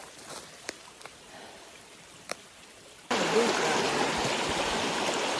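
Stream rushing at a water crossing on the Bartram Trail on a rainy day, faint at first with a few clicks, then suddenly loud and steady broadband water noise close by.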